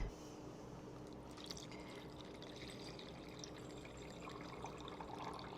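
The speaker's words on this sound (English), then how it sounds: "So I'm going to take our water kefir and I'm going to strain it." Homemade water kefir poured through a strainer, a steady faint trickle and splash of liquid running continuously with small drips, close by and without talk.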